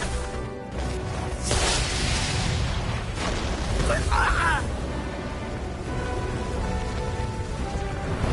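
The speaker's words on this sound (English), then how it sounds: "What was that explosion back there?" Explosion from a magic bullet gun in the Fly animated series, a loud roaring burst with a crackling rain-like rumble that spreads over several seconds, with voices heard around it.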